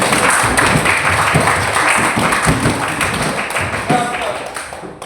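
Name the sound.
children clapping in a classroom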